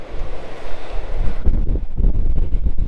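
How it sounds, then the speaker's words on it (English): Strong coastal wind whips around the Pancake Rocks on New Zealand's west coast, starting as a steady rush and then hitting the microphone in louder, rougher buffeting gusts with the sea rumbling beneath. "it's very windy on the coast here"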